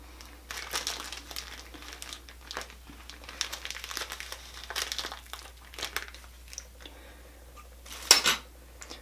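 An ostomy bag being trimmed and handled, with close, quiet crinkling of the plastic and small snips and rustles in irregular bursts, then a sharper rustle near the end.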